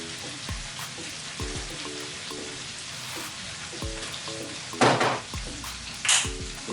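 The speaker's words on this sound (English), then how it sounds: "We cook potatoes now." Potatoes frying in a pan with paprika and spices, a steady sizzle broken by a few clinks and scrapes of a utensil against the pan, with two louder bursts of hissing.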